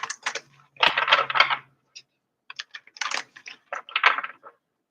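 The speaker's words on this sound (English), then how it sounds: "I just got to shuffle the cards." A deck of cards is shuffled close by in several quick, crisp bursts of riffling, with short silent gaps between them and no voices.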